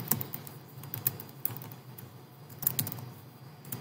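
Light keyboard typing while entering a web address into a Linux desktop web app tool: irregular soft key clicks in short bursts, close and fairly quiet, with no talking.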